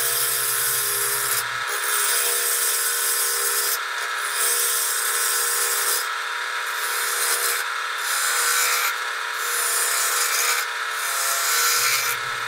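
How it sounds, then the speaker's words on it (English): A 5/8 inch bowl gouge cuts a wooden bowl on a lathe with no tailstock support, giving a steady, loud rasping and scraping hiss that runs almost unbroken, with a low motor hum at the start and end. "I get to work with my trusty 5/8 inch bowl gouge, which I use for most of this project."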